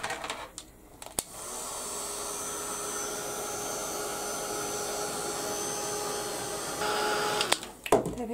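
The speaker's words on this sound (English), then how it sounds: "I'm just going to give that a quick blast with the heat gun because I want it to dry" Heat gun blowing hot air across a spring clock project to dry it, a loud steady whoosh that runs alone for about six seconds, shifting slightly near the end before switching off.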